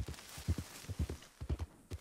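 A scrawny nag horse walking in a Red Dead Redemption video game, with soft, close hoof clip-clops in a steady rhythm of about two steps per half second, and no talk.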